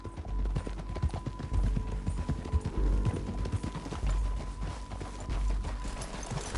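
Horse hooves clip-clop steadily in the video game Red Dead Redemption 2, a regular walking rhythm of soft thuds under faint ambient game sound.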